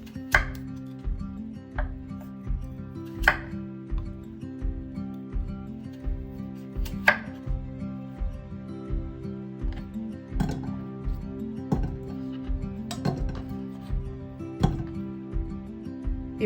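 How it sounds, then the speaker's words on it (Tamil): A knife chops potatoes on a board for a fish cutlet recipe, a steady run of close, sharp knocks repeating about every half second over a quiet background hum. "இப்போ இதை கட் பண்ணி அவிச்செடுக்க போகிறேன்."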